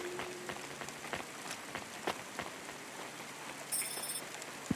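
Steady rain patters across surfaces in the cyberpunk city of the game Cloudpunk, a dense continuous hiss broken by scattered droplet ticks, with a brief electronic chirp near the end.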